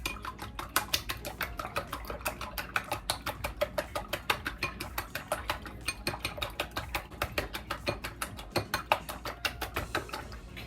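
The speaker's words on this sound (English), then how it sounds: "The yellow part and the white part mix well, so the egg part is done." Egg yolk and white beaten together in a bowl, a steady fast rhythm of light clinking strokes against the bowl, close and continuous for several seconds.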